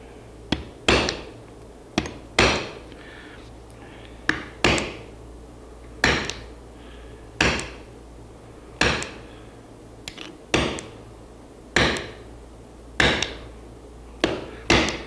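A small hammer taps wood in repeated sharp strikes, roughly one or two per second, close and clear with no talk.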